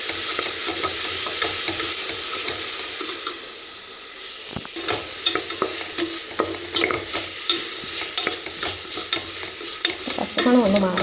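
Crushed ginger, garlic and green chili fry in a hot pan while a spoon stirs them repeatedly, producing rhythmic scraping clicks over a continuous sizzle that briefly dips, then picks up again.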